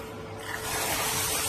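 A brief hiss of water spraying from a Spopal portable camping shower pump starts up and grows steadier after a moment, close by, with a faint mechanical hum beneath.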